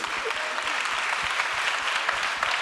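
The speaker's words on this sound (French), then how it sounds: "Oui, applaudissez." Audience applause for startup founders at a French business awards ceremony, a dense, even wash of many hands clapping that holds steady without pause.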